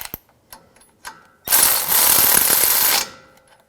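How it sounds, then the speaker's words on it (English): A ratchet tightens a castle nut on a tie rod end of a 2011-2018 Ram 1500 while a pry bar holds it down, giving a loud, close burst of rapid clicking after a few faint knocks. "I'm just going to use a pry bar, pry down while I tighten up the nut."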